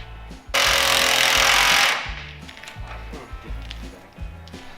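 Impact gun rattles loudly in one sustained burst of about a second and a half, removing shock absorber nuts on an old GMC truck, followed by quieter clanks and knocks of work nearby.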